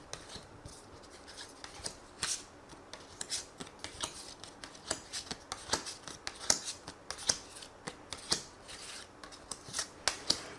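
Tarot cards are shuffled by hand in a quiet room, with repeated crisp riffles and slaps in an irregular rhythm, close and fairly soft, with no talking.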